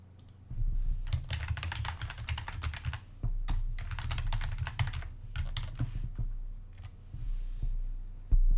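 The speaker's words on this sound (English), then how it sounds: "this is just me clicking through Football Manager windows" Rapid computer mouse and keyboard clicks come in dense bursts while paging through Football Manager 2023 menu windows, close and steady over a low hum, with no voices.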